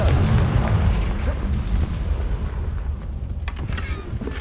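A Confringo fire-blast spell in the Hogwarts Legacy video game, a dense low booming burst that rumbles on steadily across the whole clip, loud and close, with no talking over it.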